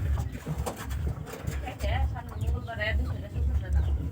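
Pigeons in a home loft of nesting pairs coo softly and chirp in short repeated calls over a steady low background murmur, fairly close and continuous.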